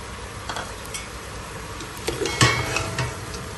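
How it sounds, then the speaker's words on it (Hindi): Beef being pan-roasted as bhuna in a pot, heard as soft sizzling with scattered metal clinks and stirring scrapes, louder clatter near the middle, no talk. "ये देखें जबरदस्ती हमारे गोश्त की भुनाई हो रही है।"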